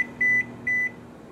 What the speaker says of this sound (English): And then you're gonna take it back to the microwave and send it in for